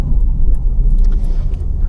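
Low, steady engine rumble from a manual-transmission car during a heel-and-toe downshift, the throttle blip barely rising above a continuous near idle drone; no talking.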